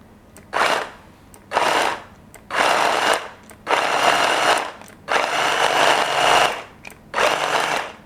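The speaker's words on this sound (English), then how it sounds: "that's just so they fit into my little food processor here" A small food processor minces roughly cut Australian salmon fillets in about seven loud whirring pulses, each lasting around half a second to a second and a half, with short quiet gaps between them.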